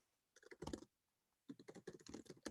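Someone types on a computer keyboard in two bursts of quick, clicky keystrokes separated by a brief pause, close and fairly quiet, with no talking.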